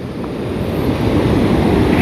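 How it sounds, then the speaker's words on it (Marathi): Rushing river water after monsoon rain near a village, a loud, steady broadband roar holding even and continuous throughout, with a breezy, wind-like wash over it and no voices. "पाण्याचा जोरात आवाज येतोय"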